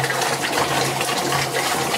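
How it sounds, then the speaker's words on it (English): Water from a HiFlo DI400/DI800 deionising tank pours into a bucket in a steady, close, rushing gush. "Now we're going to empty the water"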